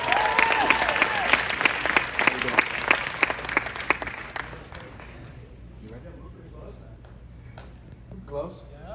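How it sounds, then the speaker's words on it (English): A concert audience at Disney Springs in Orlando, Florida, claps loudly for about four seconds at a Mickey Mouse Club charity show, the applause thinning out and fading into quiet room noise with faint stray sounds. "Please give yourselves a round of applause."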